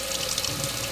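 Water runs steadily from a tap into a toy water gun being filled, a brief continuous splashing hiss with no voices.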